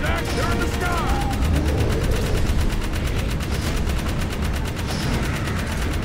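Rapid, continuous gunfire in the video game Jak 3 as shots are fired at flying Metal Heads, a dense loud rattle sustained without pause throughout.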